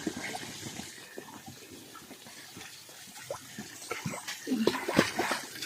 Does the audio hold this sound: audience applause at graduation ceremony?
no